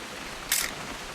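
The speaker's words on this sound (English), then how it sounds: "Just want to get a shot of you, Dawn, then we can take off." A single quick camera shutter click in What Remains of Edith Finch, sharp and close, set against a faint steady background hiss.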